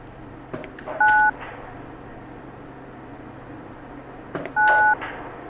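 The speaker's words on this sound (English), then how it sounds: "In this case, I'm going to try dialing 9." Two short, clear DTMF beeps sound from the keypad of a Honeywell Vista 20P security system handset as 9 is dialed, each tone brief and steady over a low background hum.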